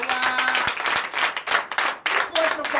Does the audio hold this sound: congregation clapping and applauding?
yes